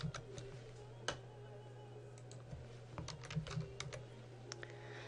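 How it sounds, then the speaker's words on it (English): Guest name keyed into a hotel reservation system on a computer keyboard, a quiet close series of irregular key taps and clicks over a low steady hum, no talking. "we are going to type in the name"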